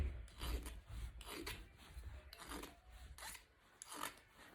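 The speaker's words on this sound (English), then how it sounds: "I'm just going to file it down to give it some more of a smoothness" A metal file rasps across the edges of a pierced metal jewellery piece in about five close, rhythmic strokes with short pauses between them.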